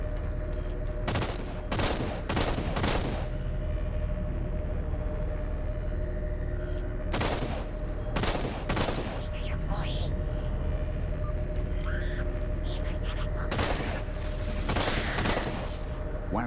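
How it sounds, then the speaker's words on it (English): Gunfire from Halo 4 on a starboard side of a carrier: several loud bursts of automatic fire in clusters, with a steady mechanical hum underneath and game voices talking. "Taking fire, starboard side."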